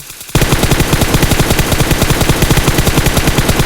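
Rapid automatic gunfire from PUBG, fired through a 4x scope, rattles out in a fast, steady stream of evenly spaced shots, loud and continuous after a brief quiet start.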